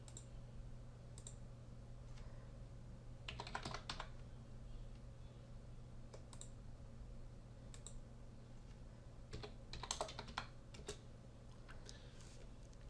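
Keys clicked on a computer keyboard as numbers are typed in, brief bursts of fairly quiet tapping separated by pauses, over a steady low electrical hum with no talking.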